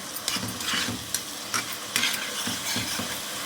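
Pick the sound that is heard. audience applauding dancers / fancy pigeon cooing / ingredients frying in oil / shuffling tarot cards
ingredients frying in oil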